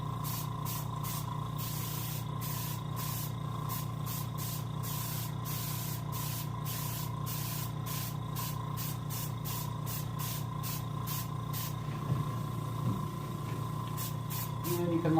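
Silver pearl paint sprayed in short, repeated bursts from an airbrush onto a King Chinook salmon model, a close, crisp hiss pulsing steadily over a constant low hum, with a rougher stretch near the end.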